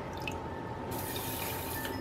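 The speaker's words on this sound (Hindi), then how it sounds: "3/4 कप पानी डालेंगे," Water poured into a saucepan for sugar syrup while making ghevar, a steady close splashing trickle that brightens partway through, with no talk.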